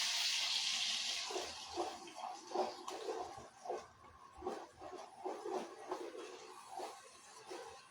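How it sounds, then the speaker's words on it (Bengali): Water is poured into a simmering spice paste for a vegetarian paneer korma, a soft splashing and sizzling burble that rises and falls in uneven bursts, fairly faint and close. "সেই জন্য একটু জল দিয়ে দিলাম যাতে খুব না ছেটকায়।"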